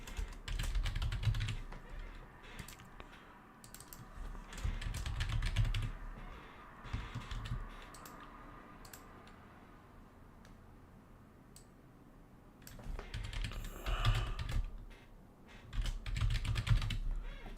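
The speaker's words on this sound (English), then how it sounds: "Sorry, I know the typing is going on." Typing on a computer keyboard comes in bursts of quick, clicky keystrokes separated by quieter pauses, close and fairly faint, with no talking.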